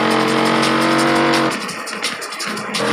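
A Dodge Viper engine in Forza Horizon 4 revs hard with a steady rising roar, then drops off into a rougher, grittier drive sound, loud and close.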